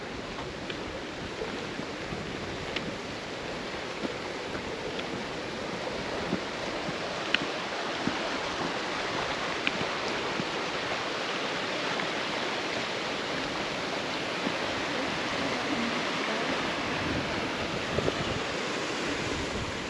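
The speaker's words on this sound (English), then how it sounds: "And a lovely stream here." Continuous rushing water from a small stream and waterfall, a steady broad splashing wash with occasional light ticks, no voices.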